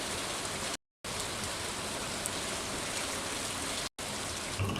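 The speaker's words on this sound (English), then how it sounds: "Did I really just start playing like rain sounds to drown out the background audio?" Recorded rain sounds play as a masking track, a loud, dense, steady hiss of rainfall that cuts out abruptly twice in brief silent gaps.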